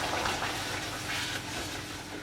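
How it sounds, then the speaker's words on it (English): A pint of chicken stock is poured gradually, bit by bit, into a pan for a turkey and ham pie, a soft liquid splashing and trickling that swells and eases over a couple of seconds at low volume. "we're going to add slowly, bit by bit, gradually, 1 pint of chicken stock"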